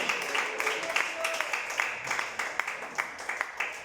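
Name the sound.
church congregation applause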